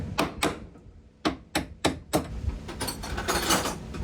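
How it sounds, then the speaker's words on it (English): A hammer strikes a boat part in a quick run of sharp, close metallic whacks, about six blows in two seconds, then dense knocking and rattling as the work continues. "It's a little persuasion with a hammer."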